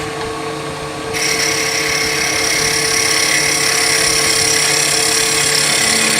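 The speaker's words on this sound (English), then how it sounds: "Planing cut to smooth it up." A skew chisel takes a planing cut along a wooden spindle spinning on a lathe, giving a steady, close hiss and whir that swells after the first second and then holds evenly with no talking.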